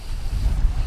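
Strong wind buffets the microphone at a northern Minnesota lake with a steady low rumble and gusty bursts, loud and close, with no voices.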